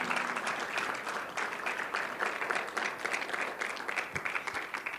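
Church congregation applauding during a sermon, a dense, steady wash of many hands clapping at moderate distance, sustained for several seconds with no talk over it.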